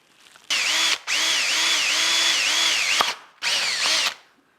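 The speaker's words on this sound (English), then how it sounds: "Make sure when you're drilling on your kitchen table" An electric drill whirs close up in three bursts drilling on a kitchen table, its motor pitch wavering as it bites, with short pauses and a click between runs.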